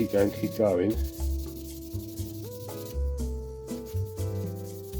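Sandpaper rubbed over a plastic surface to reveal imperfections, giving repeated scratchy strokes over a steady tonal hum.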